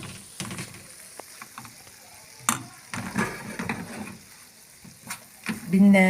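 Flour stirred in ghee in a pan, a soft scraping sizzle with spoon strokes against the metal, close and moderate in loudness, with scattered clinks and no talk.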